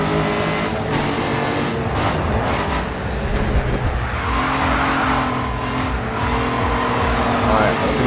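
Race car engines roar in the video game GRID 2, loud and continuous, with shifting revs and occasional tire squeal; someone talks over the action.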